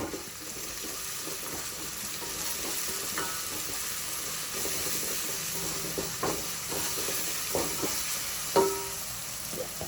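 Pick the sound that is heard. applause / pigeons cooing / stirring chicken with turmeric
stirring chicken with turmeric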